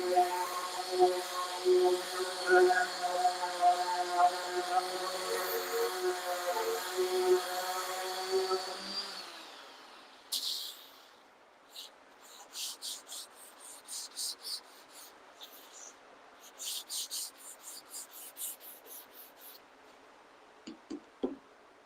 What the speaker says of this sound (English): I'm going to sand with the power sander.